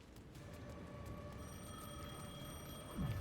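In the video game Alan Wake 2, a phone rings faintly and steadily with a thin electronic tone over a quiet room-tone hum, and a brief low thump comes near the end.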